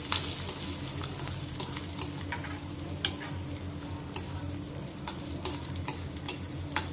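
A tempering of coconut pieces and curry leaves fried in oil for venpongal, giving a soft continuous sizzle with frequent light clicks of a spoon stirring the pan, steady and unaccompanied by speech.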